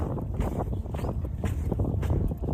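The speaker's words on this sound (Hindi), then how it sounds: "आपको भी हवा की आवाज़ सुनाई दे रही होगी।" Wind blowing across a riverside sandbank along the Narmada, steady gusty rumble buffeting the microphone with low roaring surges, close and continuous, no voices.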